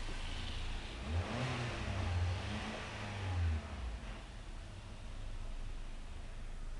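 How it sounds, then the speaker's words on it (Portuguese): Peugeot 307 with a starting fault, engine running after being cranked, a low steady idle hum with a brief rise in revs, heard faintly and close with no talking. "Eu dou partida no carro."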